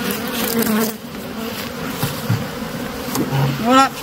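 Angry bees swarm around a beekeeper at the hive, a dense, continuous buzzing with individual insects whining close past the microphone, under brief murmurs of a voice.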